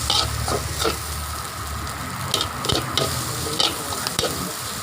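Tom yum fried rice with kaffir lime leaves being stir-fried in a pan, a steady close sizzle broken by scraping stirs of the spatula at uneven intervals.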